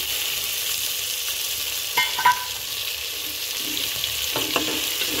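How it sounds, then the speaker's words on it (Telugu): Potato pieces and peas frying in oil, a continuous soft sizzle close by, broken by a few light scrapes and clinks as the pan is stirred, with no talking. "ఆలుగడ్డ పీసెస్, వాటిని నూనెలో వేసుకోవాలి."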